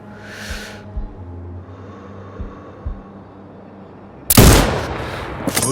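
A sniper rifle in the shooter game Sniper Ghost Warrior Contracts 2 fires a single loud, sharp shot near the end with a ringing decay, preceded by faint thumps and a low ambient hum.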